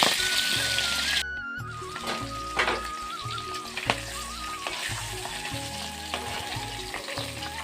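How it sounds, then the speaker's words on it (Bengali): Pieces of rohu fish fry in hot oil with a continuous bubbling sizzle, heard under a steady melodic musical background. "মাছগুলো আমার ভাজা হয়ে গেছে"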